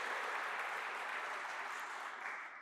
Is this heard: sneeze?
no